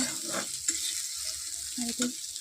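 Bitter gourd frying in a pan with oil alongside drumstick greens, a steady soft sizzle with occasional stirring scrapes and a few light clinks, close and moderate in level, no talking.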